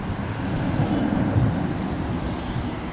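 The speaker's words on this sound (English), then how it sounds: "that small cargo plane took off from 18 right, and the Alaska Airlines jet is headed off on 18 left" Small cargo plane and Alaska Airlines jet taking off together from parallel runways at DFW International Airport, a steady loud broadband engine roar holding level throughout with no voices.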